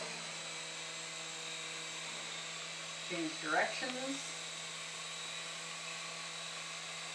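Syma S107 toy RC helicopter in flight, a steady thin whine and buzz of its small rotors droning throughout at close range while a person speaks briefly partway through.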